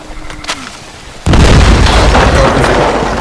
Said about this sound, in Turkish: Çünkü niye burada patlama efekti oluyor. İşte çitler mitler kırılıyor.